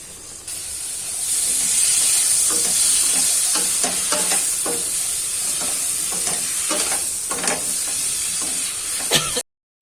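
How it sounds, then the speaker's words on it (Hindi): Spices and tomatoes frying in a pan in a village kitchen as a vegetable dish is made, a loud continuous sizzle and hiss with repeated scraping stirs of the spoon, ending abruptly. "अब टमाटरों के साथ साथ हमारे सारे मसाले भी अच्छे से भुन जाएंगे"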